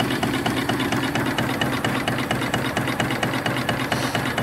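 A steam engine fitted with a hydrostatic swift lubricator runs steadily, its low mechanical chugging and knocking repeating evenly and close, with no talk.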